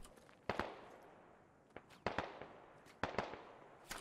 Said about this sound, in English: Isman actually taking some shots at Airborne